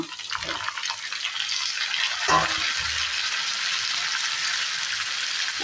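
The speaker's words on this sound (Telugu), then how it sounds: "ఇలా ఒకసారి అంతా బాగా మిక్స్ చేసుకొని టమోటా ఇస్తున్నా" Onions and tomato frying in a pan and being mixed, a steady bright sizzle with a brief scraping stir partway through.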